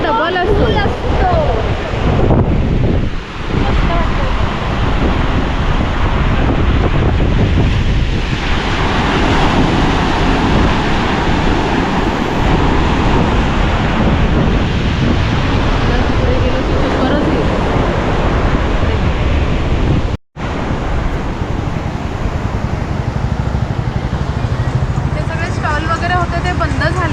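Heavy seawater and surf at Mandvi during the monsoon rain roar in a loud, continuous wash, with strong wind buffeting the microphone nearly throughout and one abrupt brief dropout.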